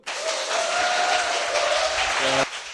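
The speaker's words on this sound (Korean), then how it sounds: "박수!" An audience applauds steadily at a Korean political talk show about the new Democratic Party leader, a dense burst of clapping lasting a couple of seconds with a faint tonal hum underneath before it cuts off.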